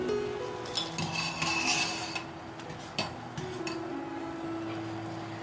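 Metal pot lid lifted off a boiling shrimp and ginger broth, with light clinks and a sharp clank of metal against metal over steady background noise in a home kitchen.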